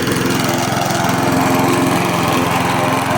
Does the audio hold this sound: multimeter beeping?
no